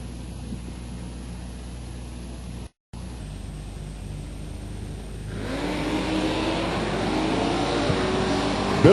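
Drag race launch between a 1972 Dodge Dart and a 2002 Chevrolet S10 at a bracket race, engines idling steadily before a brief dropout, then a rising roar of acceleration building loud through the end.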